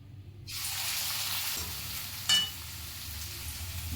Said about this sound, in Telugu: ఆయిల్ వేడయ్యాక ఆనియన్స్ వేయాలి